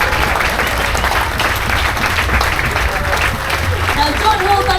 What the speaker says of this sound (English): Now don't hold that applause